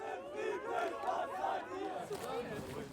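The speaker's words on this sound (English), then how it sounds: "Crowds carrying Antifa banners chanted against the AfD" Large protest crowd chanting in unison against the AfD, Antifa banners among them, with police lines pushing back nearby; rhythmic massed voices rise and fall steadily at moderate distance.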